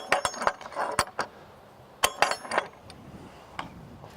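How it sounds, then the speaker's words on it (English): Sharp metallic clicks of a gate latch snapping onto its notch post, a quick cluster of taps followed by a second burst a moment later, close and fairly quiet with no talking. "with the notch post in your latch, your gate will now latch"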